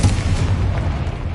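A Confringo explosive spell bursts in Hogwarts Legacy inside a tomb, a single low rumbling boom that rolls steadily for over a second, close and full, with no voices.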